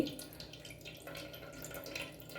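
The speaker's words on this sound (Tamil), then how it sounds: "இப்படி நல்லா இப்படி பிழிஞ்சிங்கன்னா தண்ணி எல்லாம் அப்படியே வந்துடும்." Whey drains out of a squeezed cloth bundle of homemade paneer, giving an uneven trickle and dribble of water with small splashes, faint and continuous.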